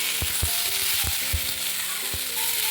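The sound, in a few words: fried potatoes being stirred and fried in a pan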